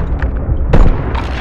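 Single Koshka sniper rifle shot in COD Mobile, one heavy booming crack landing midway through, loud and close over a dense low rumble of background game noise.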